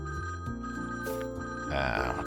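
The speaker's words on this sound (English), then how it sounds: "Suddenly, an annoying phone ringing." A phone ringtone in a video game, melodic electronic ringing tones repeating over a soft game background, no talk.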